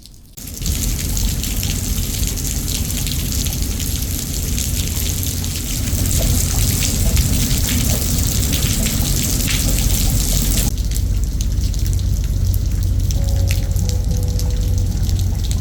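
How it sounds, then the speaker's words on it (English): Rain pours down in Kaohsiung, Taiwan, a steady broadband hiss of heavy rainfall that holds for the whole stretch and thickens partway through, close and continuous, with no voices. "I think we can probably count to 10 and then we're going to get rained on."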